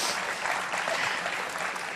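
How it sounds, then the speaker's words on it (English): Crowd applause at a pro-life rally in Brisbane, a dense, even wash of many hands clapping, steady and moderately distant, sustained throughout without pause. "Yeah, that does deserve a clap,"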